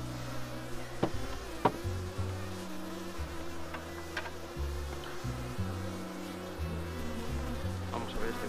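Bees at a hive hum in a continuous, droning buzz with wavering pitch, close and moderately loud, with a few light knocks and taps.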